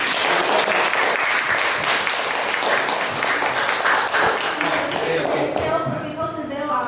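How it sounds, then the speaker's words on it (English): Lecture audience breaks into sustained applause, a thick, fairly loud patter of many clapping hands that gradually thins near the end as a voice begins speaking. "let's give Dr. Masaaki Sensei another applause."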